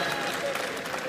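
A short, fairly faint burst of audience applause at a debate for the 2024 East Java governor race, a smeared crowd clatter with voices mixed in.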